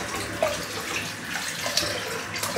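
Tap water runs into a sink as a face is rinsed off after a razor shave, a steady close splashing stream with small irregular spatters and no voices over it.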